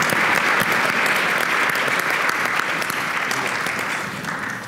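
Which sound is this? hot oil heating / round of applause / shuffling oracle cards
round of applause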